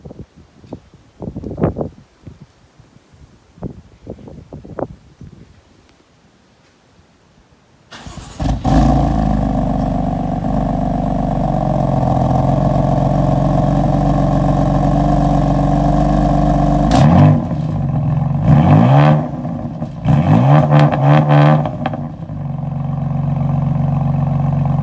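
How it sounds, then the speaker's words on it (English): A 2015 BMW M4 engine fires up with a loud roar after a few faint clicks, settles into a steady close idle, then surges through several sharp throttle blips and revs in sport mode. "I'm going to start up the car in efficient mode, and then I'm going to change it to sport mode and tap the gas a little bit"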